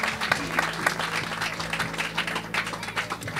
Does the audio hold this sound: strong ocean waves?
no